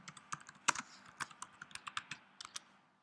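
Rapid typing on a computer keyboard while a company name is entered into dialer software settings: a quick, close run of crisp clicks with a few heavier keystrokes, fading out at the end.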